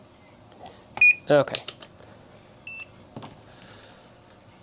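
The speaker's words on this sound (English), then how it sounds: "We get a beep when we have a short" Continuity tester on a Frigidaire Kenmore oven control board beeping during a repair, a few short sharp electronic beeps spread across a few seconds, with someone speaking briefly nearby.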